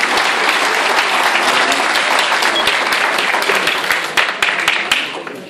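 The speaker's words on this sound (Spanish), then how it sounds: "un aplauso para el maestro" A hall audience gives a teacher a loud, sustained round of applause at a physics book presentation, dense clapping throughout with a few sharper individual claps standing out as it tapers off.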